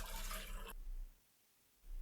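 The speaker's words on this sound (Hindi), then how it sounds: "जेली के लिए यहाँ पर सबसे पहले 1 गिलास पानी ले लूँगी डेक्सी" A glass of water is poured into a cooking pot in a home kitchen, making a steady, full splashing pour that cuts off abruptly and is followed by a brief quiet gap before more water noise returns.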